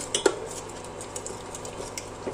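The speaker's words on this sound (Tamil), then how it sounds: "இப்போ நல்லா இதை கலக்கிக்கலாம்" A utensil scrapes and clinks against a metal pot in a few quick strokes, followed by soft stirring, close and fairly quiet.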